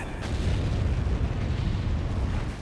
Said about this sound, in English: Sounds like an explosion to me.